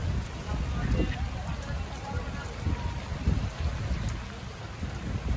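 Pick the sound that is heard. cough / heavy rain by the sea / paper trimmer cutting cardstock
heavy rain by the sea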